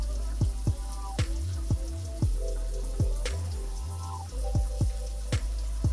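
Water running from a bathroom faucet while washing starter locs, a steady close splashing stream broken by repeated drips and patters.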